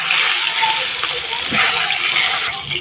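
Six eggplant pieces go into hot oil for frying, producing a loud, steady, hissing sizzle that fills the whole short stretch.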